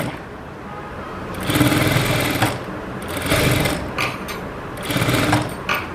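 A sewing machine stitches fabric piping in several loud, close bursts of rapid mechanical clatter that speed up and pause between runs, with a fainter motor whir in the gaps.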